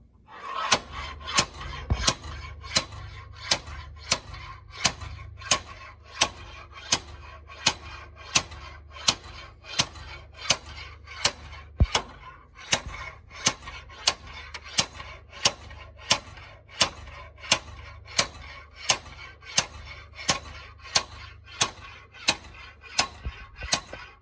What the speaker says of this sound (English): So go ahead and slide hammer it